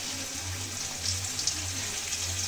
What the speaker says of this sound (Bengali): তেলটা অনেক গরম হয়ে গেছে অলরেডি, তো একটা করে বেগুন দিয়ে দিচ্ছি।